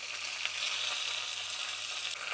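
Curry leaves sizzle in hot oil for a tempering along with mustard seeds and split gram dals, a steady bright crackling hiss without speech.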